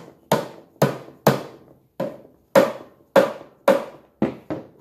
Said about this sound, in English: This is another handy tool to have, one of these, it's a dead blow hammer.